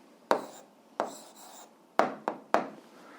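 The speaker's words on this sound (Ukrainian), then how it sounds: "Зараз записуємо відповідь, пишемо відповідь." Pen or chalk writing out an algebra answer, a few short scratchy strokes in an uneven rhythm, close and fairly clear against a quiet background.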